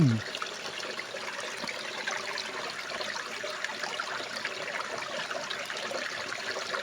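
Steady trickling spring water flows continuously from under a large rock, a broad wet hiss that stays even throughout with no other sounds standing out.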